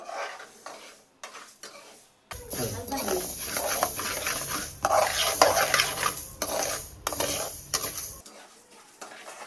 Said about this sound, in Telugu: మెంతులు, ఆవాలు సిమ్లో పెట్టుకొని వేయించుకుందాము.